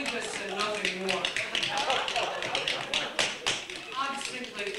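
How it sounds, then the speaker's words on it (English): Rapid tap-dancing steps on a floor form a dense, continuous clatter of sharp metallic taps with irregular accents throughout, under a voice. "suddenly there came a tapping, as of someone gently rapping on the floor next door"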